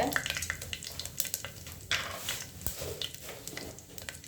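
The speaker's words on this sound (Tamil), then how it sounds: "பட்டை, கிராம்பு, 2 ஏலக்காய், கொஞ்சம் பெருஞ்சீரகம், அது மட்டும் சேர்த்துக்கோங்க." Cinnamon, cloves, cardamom and fennel go into hot oil for tomato rice, giving an uneven crackling sizzle with scattered sharp pops and clinks of utensils close by.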